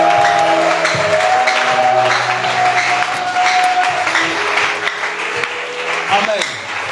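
A church congregation applauds and cheers after a loud amen, a steady wash of clapping over about seven seconds with voices and a sustained tone underneath.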